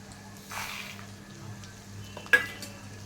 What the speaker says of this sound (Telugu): వెల్లుల్లిపాయలు అన్నీ వేసి బాగా ఫ్రై చేయాలి